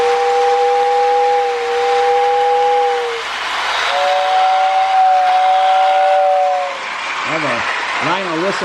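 Whistle of a Lionel postwar 2056 Hudson model steam locomotive, two long steady chord blasts over a hissing, rumbling background, loud and close, followed by a voice briefly imitating the whistle with wavering tones.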